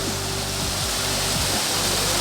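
Water rushes steadily over rock at Chitradurga Fort after a night of rain, a loud, unbroken wash of flow close by with no voices.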